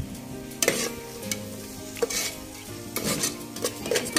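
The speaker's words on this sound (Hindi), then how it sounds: "यहाँ पर हम कोथमीर मेथी हरी मिर्च इसको भी थोड़ा सा फ्राई," Coriander, fenugreek leaves and green chillies fry briefly in a pan, with a moderate sizzle punctuated by several sharp scrapes and clanks of a spoon stirring against the metal.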